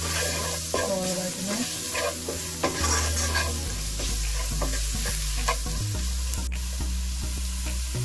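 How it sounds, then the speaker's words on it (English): Spices sizzle steadily in a pan as they are stirred for egg fried rice, with a constant fry hiss, scraping utensil strokes and a low hum underneath. "And stir, and let it cook for about"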